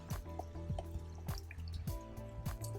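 Dishes being washed in a basin of water at a campsite, with repeated drips, splashes and sloshing of water close by in an irregular rhythm and no one talking.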